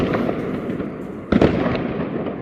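Fireworks burst continuously on New Year's Eve in the Czech Republic, a dense rolling crackle of bangs with one louder, closer blast partway through.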